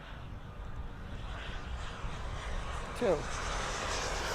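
A small 64mm EDF model jet makes a steady ducted-fan whine, loud and close as it passes low along a runway, with a brief rising pitch sweep near the end and people talking over it.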